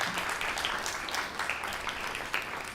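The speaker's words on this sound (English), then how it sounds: "a big round of applause for all the parents who have come here" Audience applause for parents attending a live event, a soft, fairly distant wash of many hands clapping at an even level, with no talking over it.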